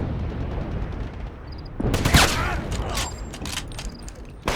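A shootout in Wolfenstein (2009), with loud rapid gunshots and impacts crowding together into a chaotic burst of combat noise over a rumbling game background.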